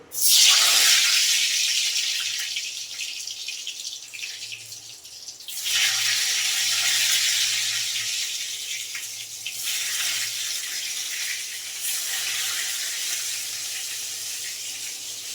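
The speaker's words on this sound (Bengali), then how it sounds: "কড়াই তেলটা গরম হয়ে গেছে, বেগুনটা দিয়ে দেবো।" Eggplant frying in hot oil in a wok: a loud, continuous broadband sizzle that swells and dips in waves over the whole stretch, with no talking.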